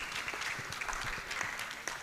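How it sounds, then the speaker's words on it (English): Audience applause at a conference, a sustained, even round of many people clapping together, moderately loud and uninterrupted. "Keep clapping for him."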